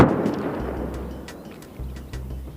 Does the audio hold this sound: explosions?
yes